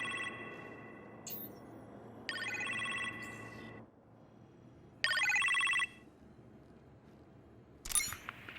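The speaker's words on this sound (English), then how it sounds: "You appear to have a phone call in the kitchen," A telephone rings in a kitchen in the video game Iron Man VR. Bright electronic ring bursts come in a series of separate pulses with quiet gaps between them, fairly clear against a soft background hum.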